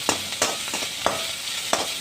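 Chopped large onions sauté in a pan for a raw-banana kootu, giving a steady frying hiss broken by four or five sharp spatula scrapes and stirs, close and fairly loud.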